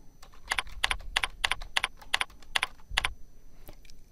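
Fingers typing search keywords on a computer keyboard, a quick uneven run of crisp clicking keystrokes in short bursts, close and fairly quiet, with no talking.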